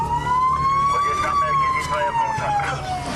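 A loud fire engine siren wails nearby on Istanbul streets at night, its tone slowly rising and falling over steady traffic noise.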